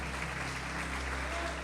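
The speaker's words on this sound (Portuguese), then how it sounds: "Pode aplaudir o Senhor Jesus." A church congregation at a Lord's Supper service applauds in a brief, even burst of clapping that fills the hall over a low hum.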